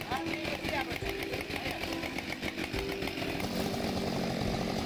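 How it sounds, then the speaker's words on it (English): A professional forestry chainsaw runs steadily at high revs, its loud buzzing engine drone continuous throughout with a faint, speech-like layer underneath. "The Husqvarna 572XP and Style MS 462C are two leading chainsaws in the forestry industry."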